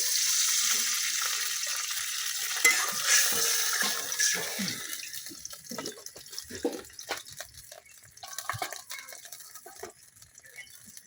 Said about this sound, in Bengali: এখন আমি কষানোর জন্য পানি দিয়ে দিতেছি।